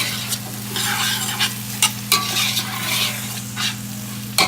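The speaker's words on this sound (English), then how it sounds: "So we put our beans in, we put our rice in, the chicken is frying up." Chicken fries in a pot with rice and beans for Trinidadian pelau, a steady close sizzle broken by several scraping stirs of a spoon against the pot.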